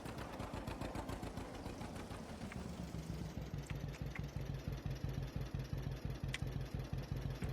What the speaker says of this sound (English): It's got a little outboard motor there.